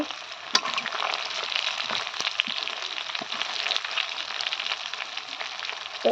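Chicken pieces fry in a pan at home, giving a dense, continuous close sizzle with a few sharp clinks and pops spread through.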